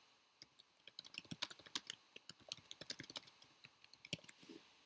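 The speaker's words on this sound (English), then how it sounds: "Put my cursor in the field at the top of the screen and start typing" Quick, uneven clicks of keys being typed on a computer keyboard, close by and fairly quiet, in short bursts with brief pauses.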